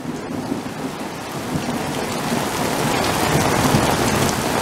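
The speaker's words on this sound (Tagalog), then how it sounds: "Ang lakas ng kulog." Heavy rain pours steadily with a deep rumble of thunder rolling underneath, loud and close throughout.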